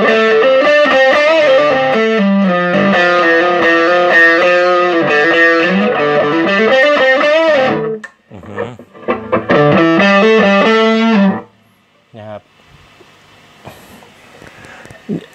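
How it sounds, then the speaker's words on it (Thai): Loud distorted electric guitar chords from an Epiphone Classic '61 with Fishman active pickups ring out in bursts, with a pause and a return before trailing off into quieter plucked notes. "เรามาฟังเสียงดูดิว่าใส่เสียงแตกแล้วเป็นไงบ้าง"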